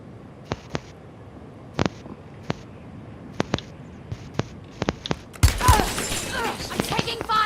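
Incoming gunfire in a Call of Duty match: scattered sharp cracks and short bursts at moderate distance, then a louder flurry of impacts and noise toward the end, with quiet voice chat around it.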